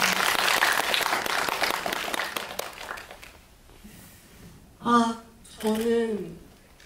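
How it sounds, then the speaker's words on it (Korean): An audience at a film screening Q&A claps loudly for a few seconds, the applause fading away, then a voice speaks briefly in a quiet room. "박수 한번 부탁드립니다."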